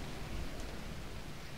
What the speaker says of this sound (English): the sound of rain looks a little bit weird. Sounds like it's raining over there